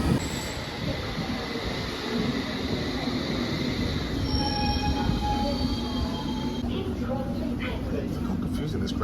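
London Underground train rumbles along the tracks with steady rolling noise and whining tones, wheels squealing briefly near the end, while a person talks over it.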